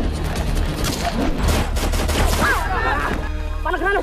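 Heavy gunfire in a battle scene, with dense overlapping bursts of automatic fire and booms, loud and continuous, mixed with shouting voices.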